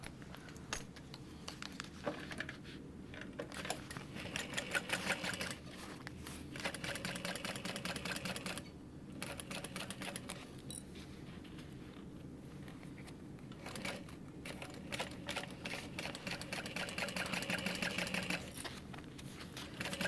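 A sewing machine stitches the fabric seams of a hip bag, running in long steady bursts of rapid needle chatter with brief pauses between passes, close and fairly loud.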